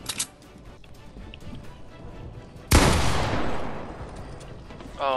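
A sudden loud burst of video-game gunfire from a console battle hits at once and rings out before fading, after quieter rattling and scattered clicks.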